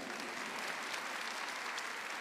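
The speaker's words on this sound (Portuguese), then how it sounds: "Vamos aplaudir." Steady applause from an audience at a church gathering, a dense wash of many hands clapping continuously and fairly evenly without a break.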